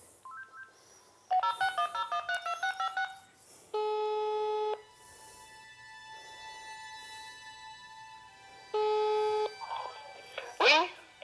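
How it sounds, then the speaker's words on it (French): Telephone number dialed by keypad, a quick run of short DTMF tones followed by two long steady tone blocks separated by a faint gap, quiet and close, with brief voice sounds near the end. "Le cœur battant, Rosemarie finit par composer le numéro."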